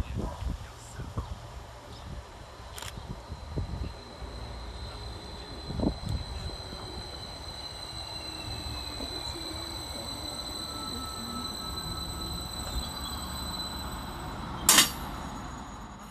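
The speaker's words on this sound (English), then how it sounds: "And here comes our train in the form of 231005" A Transport for Wales passenger train, unit 231005, rumbles steadily into Energlyn and Churchill Park station, with a long, faint high-pitched squeal from the wheels and a sharp clank near the end.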